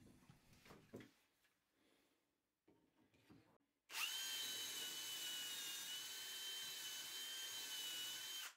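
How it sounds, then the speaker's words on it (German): Quiet handling and tapping give way to a steady, loud power drill whine as holes are bored into a wooden wardrobe panel, running continuously for several seconds up close. "mache ich jetzt 3 Bohrungen"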